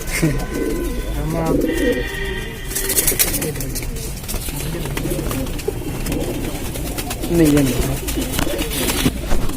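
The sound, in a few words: pigeon cooing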